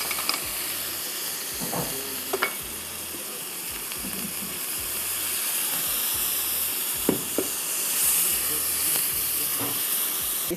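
Red onion hits hot oil with a little coconut in the pan, giving a steady, even sizzle and hiss broken by occasional soft clinks and scrapes of stirring.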